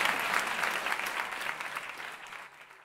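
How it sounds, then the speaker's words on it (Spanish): A theatre audience gives a short burst of dense, close applause that fades steadily over about three seconds, with no speech over it. "¡Fuerte el aplauso!"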